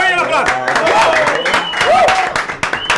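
Applause from a small studio audience, brisk clapping mixed with cheering voices and sliding whistle-like tones, loud and close, with people talking over it.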